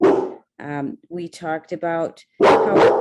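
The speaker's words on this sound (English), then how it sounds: "I'm sorry, that's my dog." A pet dog barks in short bursts close to the microphone, interrupting someone speaking during an online workshop.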